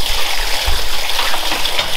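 Water gushing steadily into an empty formalin tub used for treating sheep's feet, a loud continuous pouring wash with a few low splashing thumps, heard alone.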